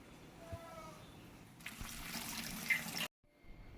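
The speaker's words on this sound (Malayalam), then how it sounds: "വെള്ളത്തിലിട്ടിട്ട് നല്ലോണം കഴുകി വൃത്തിയാക്കി എടുക്കണം" Hibiscus flowers being washed in water, heard as a close, continuous splashing and running-water rush that swells, then cuts off abruptly, leaving a quieter trickle.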